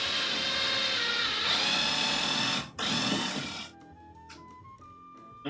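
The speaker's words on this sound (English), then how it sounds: "I'm gonna go ahead and drill 2 pilot holes" A power drill bores pilot holes into lumber, a loud, steady whirring for several seconds broken by one brief pause, then cutting off into faint, quieter tones.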